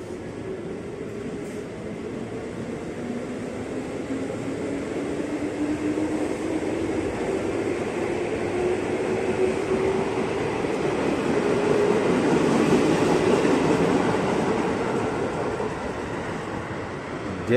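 A 12-car KRL commuter train on the Bogor line rumbles past in one long, steady pass, its broad roar swelling toward the end with a faint rising tone running through it.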